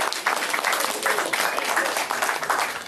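An audience at an open mic night claps and cheers for a performer, a dense, sustained burst of applause filling the room at close range.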